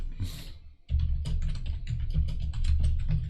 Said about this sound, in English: Goddamn keyboard.